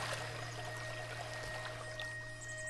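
Water runs off the side in the game Spring Falls, a steady soft pouring stream that continues evenly throughout over a low background hum.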